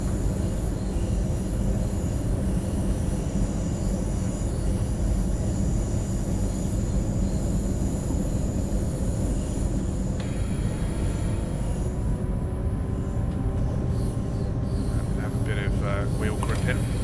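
A train rumbles steadily and loudly in Train Sim World 2 on the Tharandter Rampe route between Chemnitz and Dresden, with a continuous low roar, faint wheel squeal and a rising whine near the end.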